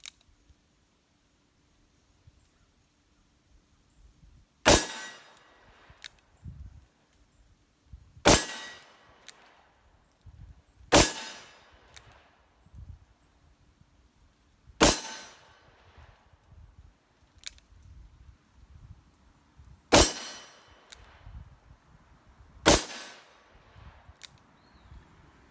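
A Smith & Wesson 686 Plus 3-inch revolver fires six sharp, loud shots at uneven intervals of a few seconds, each crack followed by a short ringing tail, with quiet outdoor background between shots.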